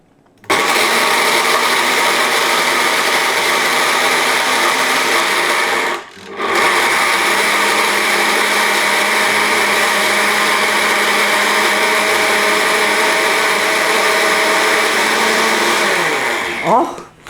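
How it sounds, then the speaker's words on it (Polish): A kitchen blender whirs loudly and steadily as it grinds dry ingredients for date energy balls, with one brief pause near the middle before the motor restarts and then winds down at the end. "zaczynam od blendowania y, tych suchych rzeczy, a daktyle sobie osobno zblenduję"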